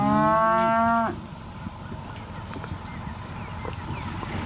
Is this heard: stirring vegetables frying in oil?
no